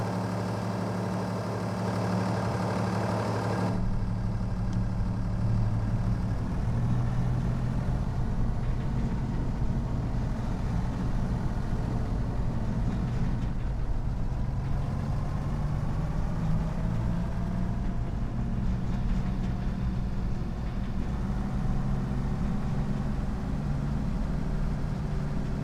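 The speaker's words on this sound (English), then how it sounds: "I do accept that this is not big enough tractor to haul this kind of loading wagon" A tractor engine, too small for the job, runs steadily while hauling a loading wagon on a farm, a constant low rumble with a shift in tone a few seconds in, no speech.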